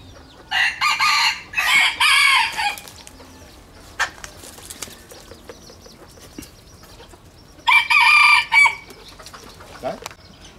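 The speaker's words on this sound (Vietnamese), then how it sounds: "Đây gà tre đấy, đây gà rừng này." Jungle fowl and bantam chickens crowing at a rural home, two loud nearby bursts of crowing separated by a quieter stretch of faint clucks and rustling.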